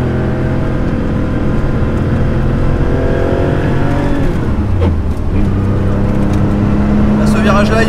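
Porsche 911 SC driven flat out on the Lohéac circuit, a loud engine drone heard from inside the car that rises steadily in pitch, drops briefly at a shift, then climbs again, with a voice talking over it.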